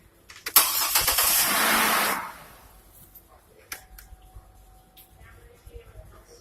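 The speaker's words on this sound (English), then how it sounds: "We're going to crank it over now." A car engine cranks on its starter during a starter current draw test, a loud churning whir lasting about two seconds before it stops, followed by quiet shop sounds and a few clicks.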